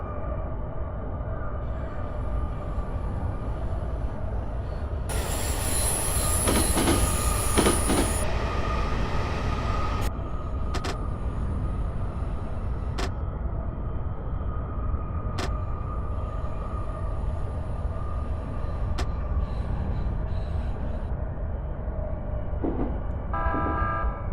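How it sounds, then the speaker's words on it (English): A video game train rumbles steadily past in Train Simulator Classic on Tokyo's Tohoku and Utsunomiya Lines, with rhythmic wheel clicks, a burst of brighter rushing noise partway through, and continuous low mechanical drone. "There's the AI train."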